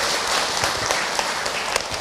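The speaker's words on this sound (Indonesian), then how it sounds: "Tepuk tangan buat kita semua." A crowd applauds during an Islamic talk, with dense, steady clapping at close range for the whole stretch.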